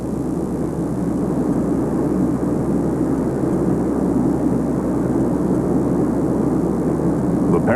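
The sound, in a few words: Soviet military aircraft in flight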